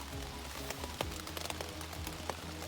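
Rain falling at a campsite, a soft constant patter with scattered sharper drops hitting a surface, faint and steady, no voices.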